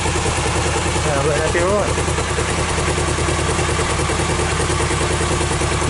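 A Suzuki GR650 Tempter motorcycle with freshly sorted carburettors idles steadily up close, its even, throbbing tick-over continuous throughout, while someone briefly speaks over it.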